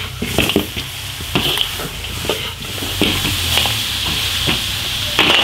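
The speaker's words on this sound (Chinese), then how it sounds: "就这样把鹅肉煸入味儿" Goose meat stir-fried in an iron wok over a wood-fired clay stove gives a steady sizzle, with repeated scraping and clanking strokes of the spatula against the pan.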